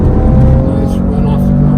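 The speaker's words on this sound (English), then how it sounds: "accelerate off the corner. I'm full throttle." BMW accelerating hard off a corner at full throttle on a performance driving course: loud, steady engine roar heard from inside the car, with a strong low rumble and no break.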